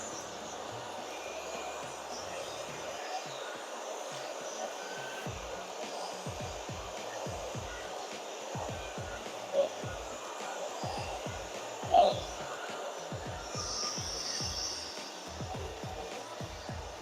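A handheld hair dryer blows on a woman's hair after a haircut, a steady close whooshing drone that runs throughout with a couple of brief louder bumps.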